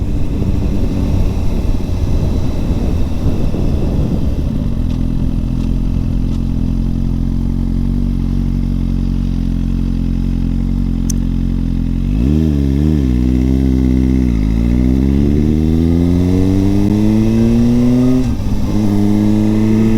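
A Suzuki GSX-R1000 motorcycle rumbles at a low idle, then revs and accelerates through rising gear pulls, loud and close throughout with no talking.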